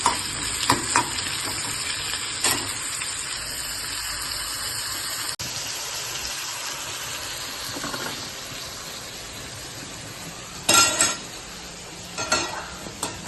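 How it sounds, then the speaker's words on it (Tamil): Tomato, onion and garlic sizzle in hot oil with salt in a pan for fish curry, a loud continuous frying hiss broken by occasional utensil clinks and stirring scrapes close by. "இப்போ தக்காளி வெங்காயம் இந்த பூண்டெல்லாம் வதங்கி வர்றதுக்கு உப்பு போட்டுருவோம்"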